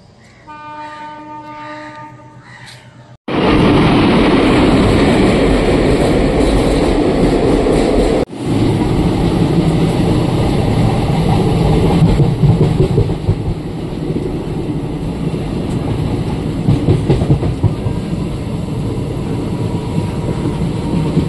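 The Kanchanjangha Express at New Alipurduar station sounds its horn in a sustained blast, then its loud rumbling roar takes over as the train runs close by with rattling wagons.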